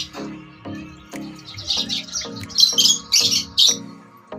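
Pet birds chirp close by, with short high tweets and squawks coming in bursts over a faint rhythmic background noise, the calls growing louder toward the end.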